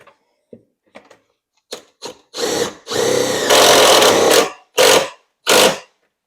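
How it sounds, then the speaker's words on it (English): A power drill drives self-tapping screws into a golf cart's lithium battery mount. It starts with short taps and brief trigger pulses, then gives several loud, close whirring runs, one of them sustained, and ends with two quick bursts. "Ran my self-tappers in."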